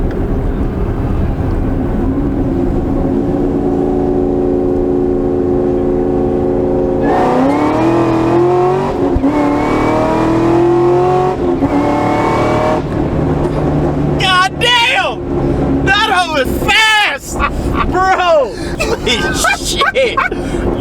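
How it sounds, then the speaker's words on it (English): An 800 whp supercharged Camaro ZL1 running E85 with a ported blower and Corsa exhaust pulls hard from 40 to 120 mph, its engine droning loudly through climbing gear pulls, with tire noise and people shouting inside the cabin. "We're gonna rip 40 to 120"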